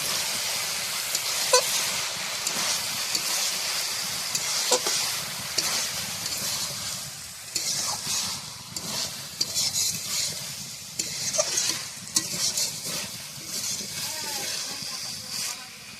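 Home-grown vegetables with chopped coriander leaves sizzle steadily in a pan while a spoon scrapes and stirs in repeated strokes, with faint traffic and an occasional distant horn in the background.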